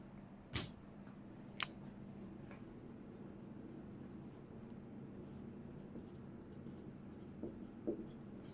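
Pen writing on paper during a finance lecture, faint scratching strokes under a low steady hum, with a couple of sharp taps.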